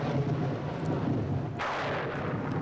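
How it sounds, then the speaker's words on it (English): Low rumbling thunder rolls beneath a steady hiss of heavy rain, with a sharper crack of thunder midway through. "it rains here. There's a mess of lightning"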